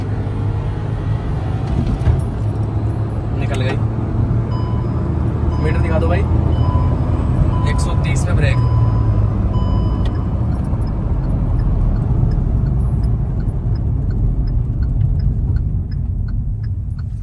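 A Maruti Swift and a turbo Hyundai i10 Nios drag race side by side. A steady, loud engine rumble and road roar runs throughout, with some faint voices beneath.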